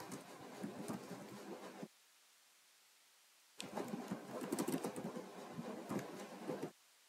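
Quiet typing on a computer keyboard, two bursts of soft rapid key clicks separated by a silent pause of about two seconds, with no talking.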